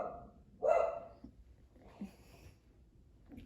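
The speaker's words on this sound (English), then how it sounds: "Sorry, that's my dog." A dog lets out one short, sharp bark, followed by a few faint, softer yips, heard fairly close with no talking.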